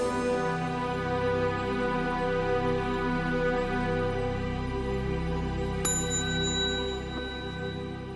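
A single bell struck once partway through, its bright ringing tone decaying over a steady low hum, used to guide novice monks in walking meditation while walking to a water pavilion.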